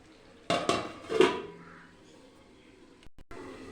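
Metal pot lid and utensil clatter over chicken curry: a few sharp clanks and scrapes near the start, then a quiet simmering background with a couple of soft knocks near the end, close and moderately loud.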